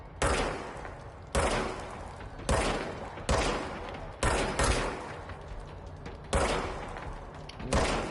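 Bursts of rapid gunfire from a video game weapon, seven loud separate volleys roughly a second apart, each a dense rattling blast that cuts off sharply before the next.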